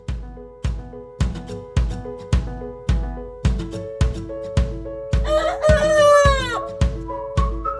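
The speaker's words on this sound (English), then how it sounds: "let's release the clucking, shall we?" Chickens cluck in a regular series of short, close calls, then a rooster breaks in with one long, loud crow before the clucking resumes.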